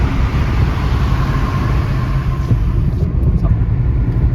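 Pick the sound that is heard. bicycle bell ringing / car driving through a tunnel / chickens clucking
car driving through a tunnel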